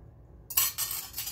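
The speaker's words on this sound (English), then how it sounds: "I'm just whipping this up real quick with a fork." A fork whisks an egg mixture with seasonings in a bowl for zucchini fritters, quick scraping clinks against the bowl in a short rhythmic burst, close and fairly quiet.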